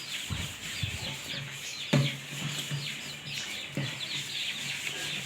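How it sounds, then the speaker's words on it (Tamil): Chickens and ducks feed together, scrambling over scattered feed with soft clucks, scratchy chirps and a couple of sharper taps, close by and fairly quiet with no voices. "வாத்தும் கோழியும் போட்டி போட்டு சாப்பிடும்."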